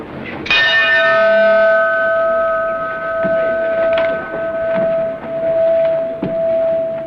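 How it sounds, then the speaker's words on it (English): A single bell struck once at Lloyd's of London: one clear, resonant ring that starts abruptly and then hangs in a long, slowly fading hum against a faint room background. "Watson, ring the bell once."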